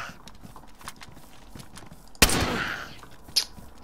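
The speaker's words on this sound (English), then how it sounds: "That's me shooting." A loud gunshot from the DayZ video game rings out sharply over quiet ambient clicks and footsteps, decays with a short tail, then a second fainter shot follows about a second later.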